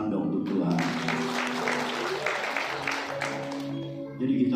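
A church congregation claps during a Christmas sermon, with broadband clapping rising over a droning musical tone and a voice still present beneath, the applause moderately loud and fading near the end.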